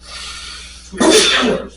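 A single loud, close sneeze bursts out suddenly during a council meeting, after a stretch of quiet room tone and brief talk.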